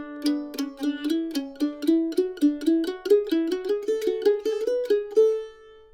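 A mandolin picks a scale in groups of four notes, bright plucked tones stepping steadily upward one by one, played alone and close.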